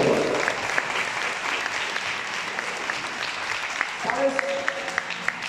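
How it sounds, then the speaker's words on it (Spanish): A crowd at a children's day gathering with a clown claps in sustained, dense applause throughout, fairly close, with a voice faintly heard beneath the clapping. "le demos un fuerte aplauso a Dios. Fuerte aplauso."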